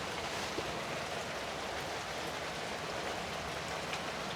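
Heavy rain pours steadily outdoors, a dense, continuous hiss of drops drumming on surfaces with no voices, loud and unbroken throughout.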